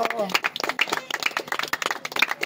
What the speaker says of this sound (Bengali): সবাই তালি বাজাও